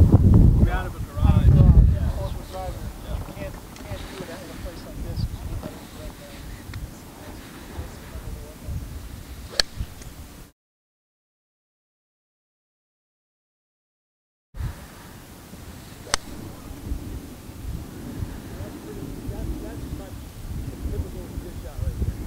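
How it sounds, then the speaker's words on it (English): Wind blows across an outdoor golf course, a steady rumbling buffet against the microphone that gusts stronger at the start, drops out briefly midway, then returns at a moderate level. "the wind's blowing."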